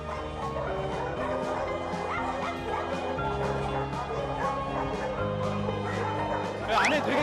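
Many rescued dogs, including ones saved from a dogfighting site, bark, yip and whimper inside a shelter, a dense overlapping chorus of near and distant voices with people talking underneath.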